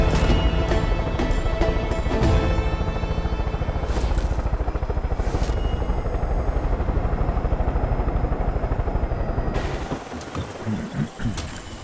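Helicopter in the video game Far Cry 5 flying with a steady loud throbbing rotor and engine drone for most of the stretch, then thinning abruptly near the end into quieter rumbles and scattered thuds.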